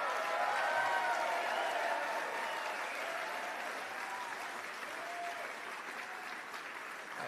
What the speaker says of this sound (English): I didn't get any of this applause.